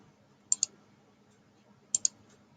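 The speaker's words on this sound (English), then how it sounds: "So I'm going to click this one" A computer mouse clicks twice in quick succession, pauses about a second and a half, then double-clicks again; the clicks are crisp and close in an otherwise quiet room.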